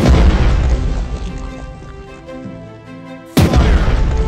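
Warship guns fire in Strategic Mind: Blitzkrieg with a deep, loud boom that rolls into a long rumbling tail, then another sharp, powerful blast breaks in near the end.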